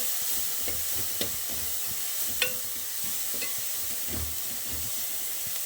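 Dried shrimp frying in oil for a shrimp and basale curry: a continuous close hiss of sizzling with occasional soft scrapes and clicks from stirring, no voices.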